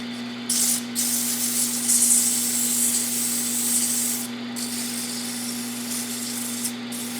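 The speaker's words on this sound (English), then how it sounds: "Now we'll do a little sanding." Steady back-and-forth hand sanding of a pen with 220 grit sandpaper rasps close up in long rhythmic strokes, with a constant low electrical hum underneath.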